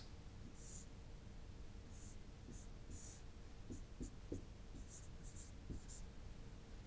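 A circuit diagram is drawn by hand, giving short, scattered scratches and strokes of a pen or marker over a steady hiss, with no voices.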